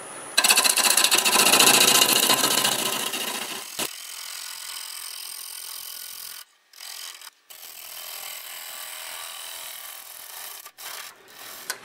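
Mimosa wood vase spinning on a wood lathe at 860 RPM, with a loud rough scraping of the cutting tool for the first few seconds, then a steadier, quieter whir and rub broken by short pauses.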